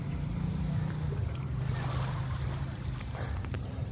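Steady low rumbling engine drone of boats on the open sea off Samal Island, with wind and surf noise throughout, fairly close and continuous.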